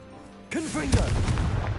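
A Confringo spell blast in the Hogwarts Legacy video game: a sudden loud fiery burst with a booming crackle that erupts and then rumbles on. Before it, a voice shouts the spell's name.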